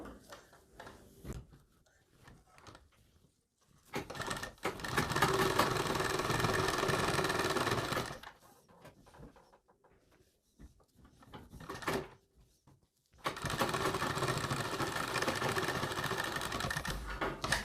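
An electric sewing machine stitches the edges of a blouse back-neck pattern together in two long, steady whirring runs separated by pauses with small handling clicks.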